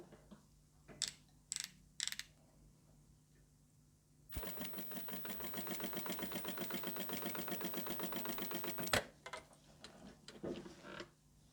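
A home sewing machine running a long gathering stitch at its longest stitch length, a steady rapid mechanical chatter lasting several seconds, with faint clicks and handling sounds before and after.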